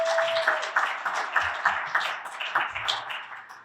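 Sparse applause and scattered hand claps from a business luncheon crowd of the Hispanic Chamber honoring a sponsor, moderately close and thinning out over a few seconds, with a brief ping-like tone at the start.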